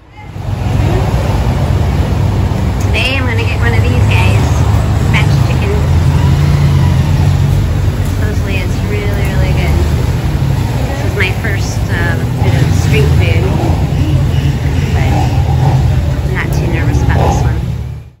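Large trucks, including cattle trucks, roar past close by on a road in Rio Dulce, Guatemala, a loud steady low rumble filling the whole stretch, with a few voices faintly in the background.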